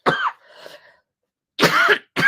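Close, harsh coughing in short bursts, one at the start and two more after a pause, with a raspy throaty edge.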